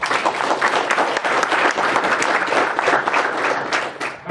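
Conference audience at a security talk applauding to welcome a speaker, dense steady clapping from a crowd that tapers slightly at the end.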